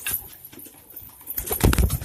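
Pigeons in a loft setting give a soft flutter of wings that swells into a louder burst of flapping near the end, with faint low cooing underneath and no talk.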